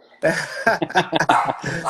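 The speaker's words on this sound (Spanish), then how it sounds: "mi perrito está ahí un poquito alterado, No le pero gusta, todo perfecto. no le gustan los en vivos" Small agitated dog barking during a livestream: a rapid burst of loud, close yips and barks with some growly whimpering, sounding alone without speech.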